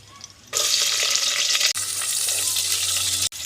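Chopped onion fries in hot oil with whole spices in a pan for a chicken biryani, giving a loud, steady, close-up sizzle that runs almost without a break, with brief dips as the pan is stirred.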